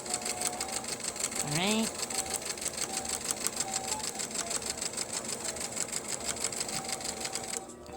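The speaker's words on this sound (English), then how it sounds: "let's start out with our actual sewing" Fast, even rhythmic clatter of a sewing machine stitching clothes, close and continuous, with a brief spoken word near the start.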